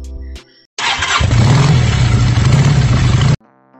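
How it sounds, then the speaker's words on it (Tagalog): An electric starter cranks and catches, then a Racal Vortex 150 scooter engine idles loudly and steadily for a few seconds before cutting off abruptly. "meron na lang itong electronic"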